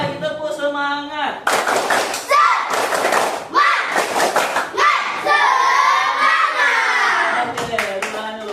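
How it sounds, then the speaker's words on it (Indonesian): A fourth-grade class at SDN 114353 Lobu Rampah repeats the tepuk semangat clapping chant. After a teacher's spoken cue, the room fills with rapid clusters of loud hand claps and children's rhythmic shouting, continuing to the end. "Sekali lagi tepuk semangat"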